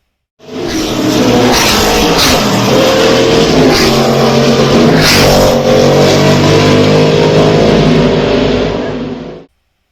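Race cars roar past the Corvette bridge at the Sebring Classic 12 Hours, a loud sustained engine howl swelling and overlapping as cars pass close by, with no talking.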